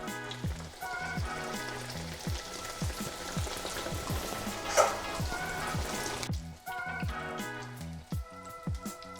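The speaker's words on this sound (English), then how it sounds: "So you're just frying until you get a golden brown color" Donuts sizzle and crackle in hot oil, a dense bubbling hiss with scattered pops, close by and without talk.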